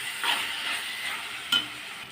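A tomato drumstick curry stirred in a pan after chilli powder goes in, with a soft scraping stir over a gentle sizzle and a short sharp clink of the spoon against the pan near the end.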